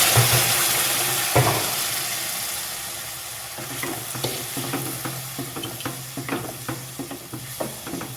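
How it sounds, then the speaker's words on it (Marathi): Ginger garlic paste sautéed in a pan for butter chicken: a steady frying sizzle with repeated scraping stirs that become a quicker rhythm of clicks toward the end, close and moderately loud. "आलं लसूण चांगली पेस्ट परतायची"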